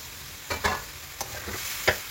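Food in a frying pan is stirred and mixed, with a few distinct scraping strokes over a soft, steady sizzle. The sound is close and no one speaks.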